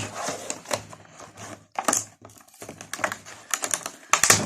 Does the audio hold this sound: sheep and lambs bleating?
no